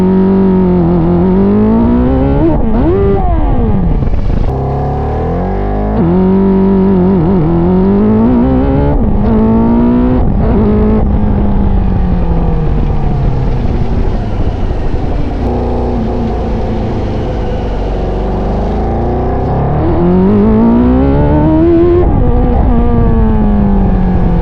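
A 170 HP engine-swapped riding lawnmower launches hard on a drag track, its engine revving up and down through several loud, close pulls with a steady rising-and-falling roar throughout.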